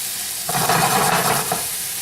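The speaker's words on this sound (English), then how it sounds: "And then we're going to add our mushrooms. What do we do? Yeah, that's sizzling." Mushrooms hit a hot frying pan and sizzle loudly for about a second amid steady crackling frying noise.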